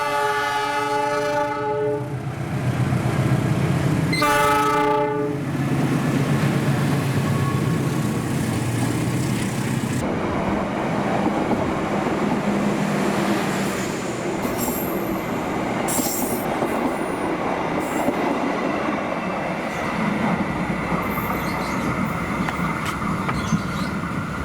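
A mixed executive-and-economy-class passenger train on an Indonesian railway rumbles loudly along the rails with a horn blast early on, then continuous wheel roar and squealing as it passes close by.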